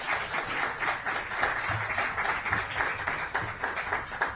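An audience claps steadily through a bookstore talk, a moderate, even patter of many hands that fills the whole stretch without a clear rise or fall.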